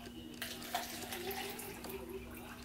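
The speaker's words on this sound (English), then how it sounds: "we're going to put water in both cups" Water runs and splashes as it is poured into cups, a steady hiss with faint trickling, fairly quiet against a low hum.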